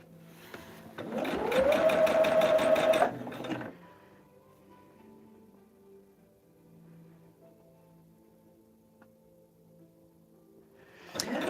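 A sewing machine stitching table runner pieces runs in one steady, loud whirring burst of about three seconds, then stops, leaving a quiet room hum before it starts up again at the very end.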